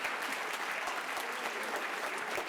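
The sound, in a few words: audience applause for concert soloists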